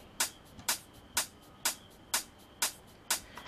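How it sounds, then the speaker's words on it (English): An offbeat hi-hat pattern plays alone in a dance track breakdown, crisp hits landing about every half second, each with a bright, short decay and a subtle shaker-like accent between them. "The hats sound like this."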